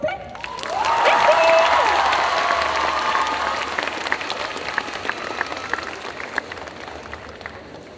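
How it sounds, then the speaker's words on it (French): Audience applause at a solo cosplay contest at a Japan-themed convention, a crowd clapping that swells quickly, peaks, then thins to scattered claps, with a brief shout or cheer near the start. "vous pouvez applaudir s'il vous plaît?"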